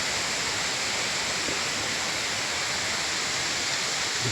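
River at a cultural village near Kota Kinabalu, Sabah, heard as a steady, dense wash of flowing water, constant and fairly loud with no voices.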